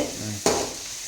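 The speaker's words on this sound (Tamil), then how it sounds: "நல்லா வெங்காயத்தை வதக்குறாங்க" Onions sauté in a hot pan with a short, close sizzle and one sharp stirring scrape in about a second, heard alone without talk.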